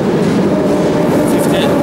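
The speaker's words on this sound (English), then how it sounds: "we're just at the train station, just waiting on the final train to the airport" Steady train-station ambience with a constant low rumble of rail traffic and platform noise, plus faint high squeals near the end, while waiting for the final train to the airport in Vienna.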